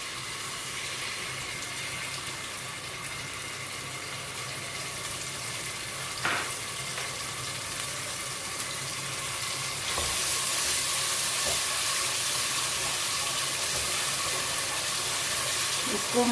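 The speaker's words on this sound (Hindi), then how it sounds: "इसको हम चूल्हा पे ही भूनेंगे।" Garlic ginger paste frying in oil on a stove, a continuous soft sizzle that grows slightly louder partway through, with an occasional faint clink.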